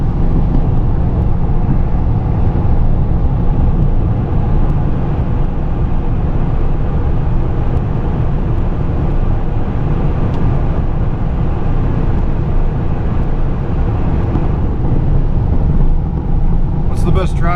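A John Deere tractor engine running, a loud steady low rumble and drone that continues unbroken at close range.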